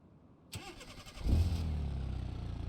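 A car engine in BeamNG.drive starts with a short crank, then settles into a steady low rumbling idle that carries on, slightly synthetic and evenly looped.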